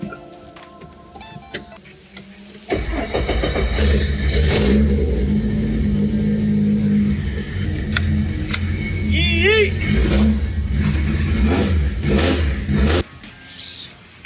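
A vehicle engine fires up partway through and settles into a loud, steady running roar with revs rising and falling, close by, with some voices and small clicks around it before it cuts off.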